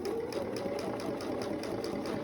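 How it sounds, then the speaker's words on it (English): A sewing machine stitches a fabric face mask, its needle chattering in a fast, even rhythm for a short steady run, close and alone. "So I'd recommend at this point sewing maybe an inch,"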